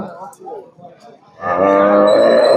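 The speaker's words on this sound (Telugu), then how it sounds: "ఈ జెర్సీ ఆవు రైతన్నోళ్ళది పక్కన పల్లె నుంచి తీసుకురావడం జరిగింది" A Jersey cow at a large cattle market lets out a loud, drawn-out moo up close, following a moment of low indistinct background sound.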